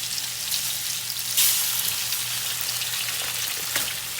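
Eggs frying in a pan while cooking Indonesian mie goreng (fried noodles), a continuous crackling sizzle at moderate loudness with a brief louder burst partway through.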